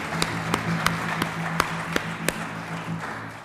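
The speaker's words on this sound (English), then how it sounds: "if we could applaud them." A handful of sharp, evenly spaced handclaps ring out faintly over a low hum at an outdoor flag-raising event, sounding like only a few people clapping.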